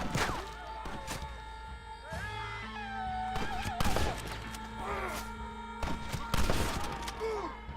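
Gunfire crackles through a Red Dead Redemption shootout as scattered shots land among other game sounds, with a voice talking over parts of it.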